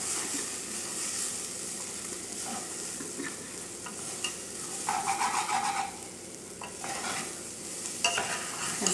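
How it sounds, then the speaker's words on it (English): Rice frying in butter in a pan for peas pulao, a steady close sizzle with scraping stirs and clinks of a utensil against the pan throughout. "The reason for frying the rice in butter is so that it will be fluffy."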